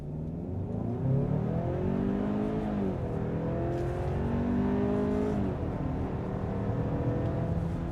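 A 2026 Hyundai Santa Fe XRT AWD at full throttle from a standstill, the engine droning steadily and climbing in pitch through two upshifts, loud and close throughout with no talking.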